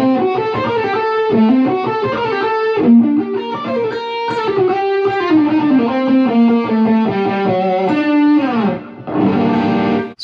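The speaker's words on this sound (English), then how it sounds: "that's really cool to bring an open electric guitar, play it with distortion, and start rocking out with some Mozart." Electric guitar played with heavy distortion, picking out a fast Mozart melody in busy, continuous runs of notes that stay loud and upfront without any talking.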